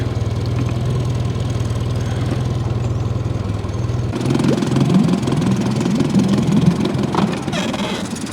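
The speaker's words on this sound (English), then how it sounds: "Motor's in reverse right now." Outboard boat motor idling steadily in reverse while drift fishing for salmon on the Cowlitz River, a low continuous engine drone that shifts to a rougher, louder chug partway through.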